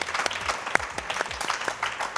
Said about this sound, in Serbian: Možete veliki aplauz za Kristijana, naravno.